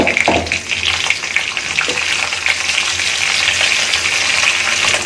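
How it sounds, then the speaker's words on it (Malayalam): A steady, loud crackling sizzle of mustard seeds popping in hot oil, continuous throughout with no talking. "അപ്പൊ നമ്മുടെ കടുക് പൊട്ടി തുടങ്ങിയിട്ടുണ്ട്"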